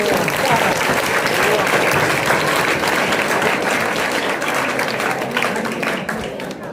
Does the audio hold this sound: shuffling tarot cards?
no